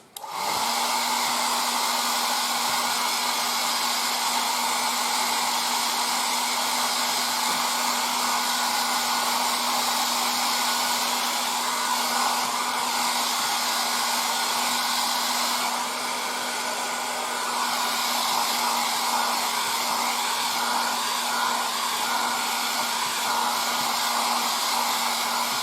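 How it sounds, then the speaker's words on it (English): A hair dryer roars steadily at close range for the whole stretch, drying thinned Vallejo paint on a 1:35 Takom Merkava Mk 2b model tank. Its broad, even whoosh barely changes from start to finish. "but before, hair dryer."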